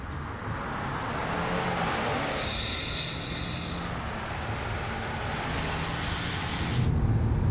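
A tuned Ford F-150 with a 3.5 EcoBoost engine launches down a drag strip in four-wheel drive high, a broad steady engine and road roar heard from a distance that swells toward the end, with no voices.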